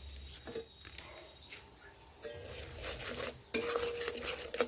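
A utensil stirs and scrapes paneer and corn masala around a cooking pan, with intermittent metallic clinks and a light sizzle, fairly quiet and close, growing busier toward the end.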